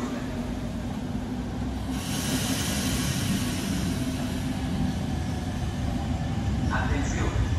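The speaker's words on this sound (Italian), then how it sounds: "Attenzione, treno in transito al binario 7." A train passes through Milano Rogoredo station, a broad steady rumble and rushing wheel noise that swells after the first couple of seconds and stays loud and close throughout.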